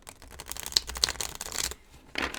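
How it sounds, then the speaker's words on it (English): A deck of tarot cards, stiffer than most decks, shuffled by hand in quick riffling bursts of papery flutter, with a short pause before a final burst. "I'm going to just do a little shuffling here first."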